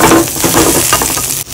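Fresh coriander leaves sizzle loudly in a small amount of hot oil, a steady close crackling frying sound with stirring, briefly, with no talking.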